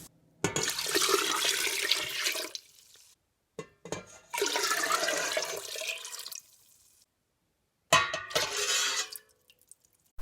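Cold water pours in bursts into a container, three separate gushing pours separated by short pauses, close and fairly loud, while making elderflower champagne.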